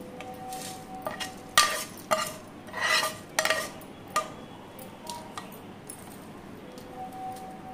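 A utensil scrapes and clinks against a pot as tempering is stirred into citron uppudu pindi, giving a series of irregular metallic taps and scrapes, close and moderately loud, with no talk.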